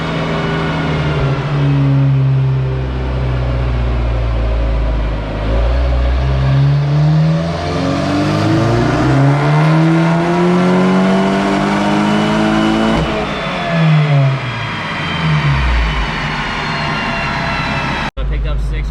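A Volkswagen MK6 GTI with an HPA K04 turbo makes a dyno pull. The engine is loud and close, droning and climbing in pitch with a few dips through the long run, then cuts off abruptly near the end.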